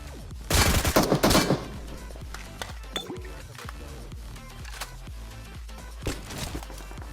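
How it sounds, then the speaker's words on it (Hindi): Rapid gunfire bursts sound in a battle royale video game, with a loud close automatic volley early on, followed by scattered single shots, footsteps and other game sounds at a moderate level. "पीछे से फायरिंग की साउंड आ रही थी स्क्वाड हाउस की तरफ से"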